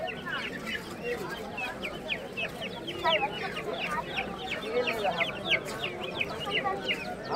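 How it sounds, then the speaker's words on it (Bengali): Chickens cluck steadily and busily at a crowded pet and bird market on Galiff Street in Kolkata. The clucking is dense and overlapping, with murmuring voices mixed in. "কাকা এই মুরগিগুলো কত দাম আছে?"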